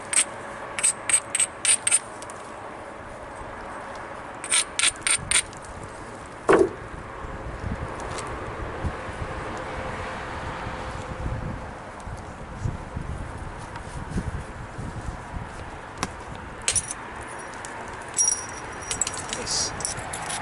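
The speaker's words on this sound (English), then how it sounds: "Took off a nice feathered flake right there." Dacite is struck during flint knapping to knock off a feathered flake, sharp stone-on-stone clicks and taps in short clusters amid scraping and rustling, with someone talking at times.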